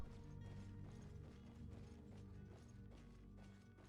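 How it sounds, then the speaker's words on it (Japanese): Footsteps overhead in the game Greedfall, a steady run of soft knocking steps under dense music and mechanical clatter, moderately loud throughout. "上も足音普通にしてるな。"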